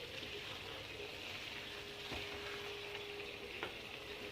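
Carrot halwa cooks in a pan as its water boils off, giving a faint, steady sizzle and bubbling hiss with a few soft stirring clicks, no voices present.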